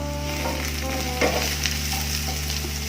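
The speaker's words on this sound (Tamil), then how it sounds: "ஜஸ்ட் போட்டு ஃப்ரை பண்ணிவிட்டு எடுத்துடலாம்." Apple pieces fry in a pan for a sweet fruit biryani, a steady close sizzle running throughout with brief stirring scrapes partway through over a low hum.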